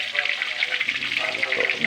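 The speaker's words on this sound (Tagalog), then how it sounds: "yung niluluto kong fried chicken" Fried chicken, a single piece, frying in a pan with a steady bright sizzle that carries close and continuous throughout, with faint background voice.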